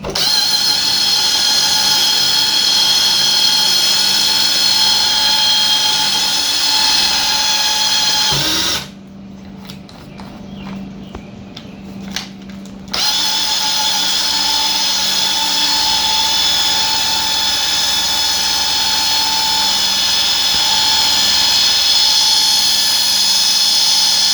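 A machine polisher runs compound over small scratches in the paint of a 2021 Nissan Rogue, a loud, steady high whine that drops out for a few seconds mid-clip and then starts again.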